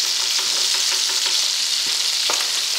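A sauce of lemon juice, oil, herbs and zest simmering gently in a pan, giving a steady close bubbling sizzle with a few soft clicks of stirring, and no voices.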